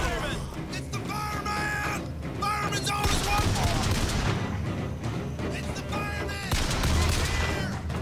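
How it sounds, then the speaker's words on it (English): Pistol gunfire in Bioshock Infinite, a rapid run of loud sharp shots mixed with other combat noise and game music, with dense bursts throughout and heavier blasts near the middle and end. "Oh, I so love this pistol."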